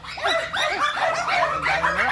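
Several dogs bark and yip in overlapping bursts throughout, loud and fairly close, forming a continuous busy chorus.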